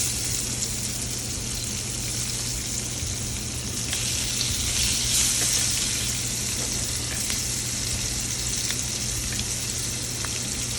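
Onion, scotch bonnet pepper and mixed vegetables sauté in hot oil, a loud continuous sizzle with a low steady hum beneath and a brief surge of hissing partway through.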